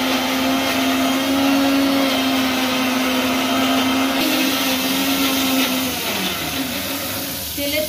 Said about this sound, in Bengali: সেগুলো আমি মিক্স করে নিচ্ছি মিক্সার গ্রাইন্ডারে।